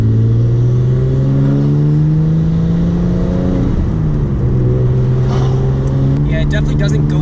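Nissan R32 GTS-T with its RB20 engine fitted with an RB25 turbo accelerates hard, engine note rising steadily through the gears with a brief dip at a shift, loud and close from inside the car.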